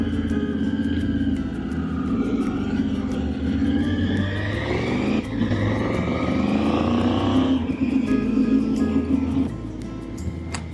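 A Triumph Tiger 900 GT motorcycle engine drones loudly while being ridden on a Peloponnese road, rising and falling in pitch as the rider speeds up and shifts gears. Wind rumble runs underneath throughout, with no talk.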